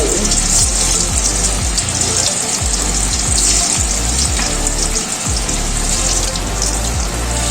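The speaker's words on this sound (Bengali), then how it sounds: "গোল গোল করে বানানো পেঁপেগুলো একটা একটা করে দিয়ে দিচ্ছি তেলের মধ্যে এগুলোকে ভেজে নেব" Round balls of shaped papaya fry in hot oil for a vegetarian papaya dhoka, a loud, continuous close sizzle with soft repeated plops and thuds as pieces are dropped in one by one.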